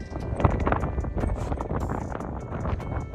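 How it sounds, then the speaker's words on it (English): Strong wind buffets the microphone outdoors at an off-grid stop, a rough, gusty low rumble with irregular thumps and rustling that rises and falls throughout. "It's still very, very windy"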